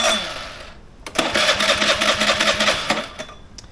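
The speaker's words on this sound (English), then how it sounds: "Obviously the starter motor has sort of got a bit of a whine in it, doesn't seem to engage every time" The starter motor of a Honda Today NVS50 50cc scooter whines and cranks in repeated short bursts. It does not always engage, and the motor never catches. The sound is close, and a quieter whirr comes before the cranking.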